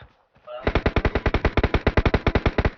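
Automatic rifle fire in the mobile battle royale game PUBG Mobile on the Karakin map: a loud, rapid burst of about twenty evenly spaced shots after a brief pause, close and dominant.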